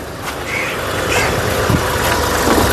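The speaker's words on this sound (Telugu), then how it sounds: "ఇంజన్ యొక్క నాయిస్ చాలా సైలెంట్గా అయితే ఉందండి" A 2017 Mahindra TUV300 T8 engine idling quietly, a low, steady hum under faint background noise, with a couple of small clicks and no voices.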